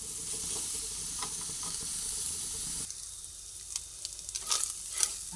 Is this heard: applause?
no